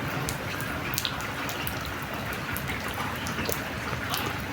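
Heavy rain pours down in an even, dense hiss, with scattered sharper drop ticks on a nearby surface and no voices.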